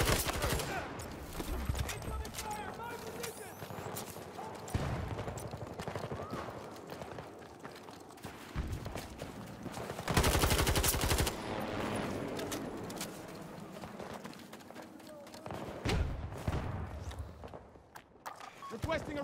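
Incoming gunfire in the shooter game Battlefield 2042, rapid bursts of automatic fire and scattered shots crackling throughout, with louder close volleys midway and near the end amid battlefield noise and radio-style voices.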